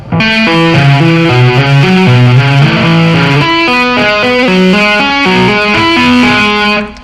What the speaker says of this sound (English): This tapping lick is based around a pentatonic box.